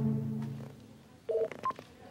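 A cartoon telephone gives a short electronic tone, followed after a pause by a quick burst of bright beeps, alone and fairly quiet.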